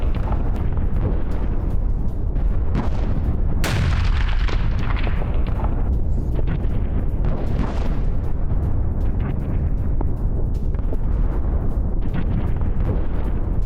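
Explosions from a Russian attack on Ukrainian positions, a loud, dense barrage of booms and blasts with one sharp crack standing out, continuous and heavy over a rumbling background.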